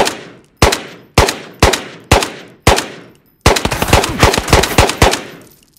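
Gunfire in the video game Ghosts of Tabor starts as six loud, evenly spaced single shots. A rapid automatic burst follows, close and sharp, with no talk.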